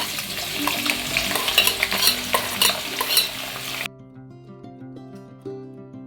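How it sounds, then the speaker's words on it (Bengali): Chopped onions dropped into hot white oil for a chicken dish, giving a loud, dense sizzle with stirring for about four seconds that then cuts out, leaving quieter background tones. "পিঁয়াজগুলোকে আগে কেটে রেখেছিলাম ওগুলো এখন তেলের মধ্যে ছেড়ে দেবো"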